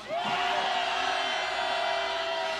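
Rally crowd shouting together during a wave, a sustained, loud mass of voices with a long held yell on top, steady from start to finish with no separate talking.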